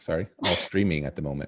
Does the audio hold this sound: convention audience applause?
no